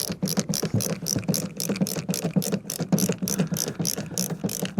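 A screwdriver drives screws into the brake light trim of a Mazda 2 Mk1, giving a rapid, continuous run of ratcheting clicks, close and fairly loud throughout.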